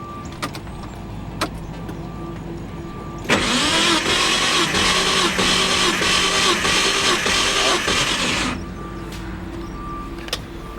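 A Nissan 240SX S14 with an RB26/30 engine cranks over on a dyno, a steady loud starter whir lasting about five seconds, set against a constant background hum.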